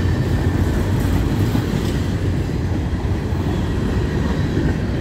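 A southbound freight manifest train loaded with steel and grain cars rolls uphill, a loud, steady wheel-and-rail roar with faint rhythmic clatter throughout, close by and without voices.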